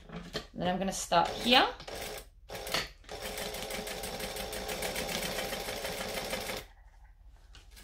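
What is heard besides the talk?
sewing machine stitching fabric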